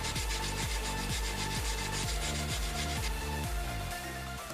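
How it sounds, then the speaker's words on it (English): A 120-grit belt sands the bevel of a Bowie knife blade over a round piece of wood, a steady loud abrasive rasp running throughout with repeated rhythmic strokes. "I'm using a round piece of wood with a 120 grit belt on to sand that"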